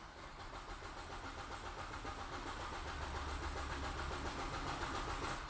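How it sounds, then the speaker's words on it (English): Car engine cranking steadily on the starter during a four-cylinder relative compression test in a garage, a continuous rhythmic churning drone with no firing or speech. "Crank engine."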